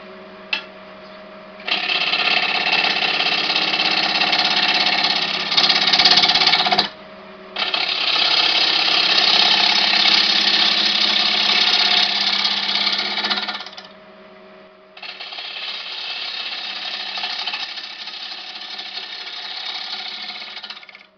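Wood lathe shaping a beech bowl at around 1000 RPM, a loud steady mechanical whine broken into long cutting passes with brief drops in level between them, close by and without talk.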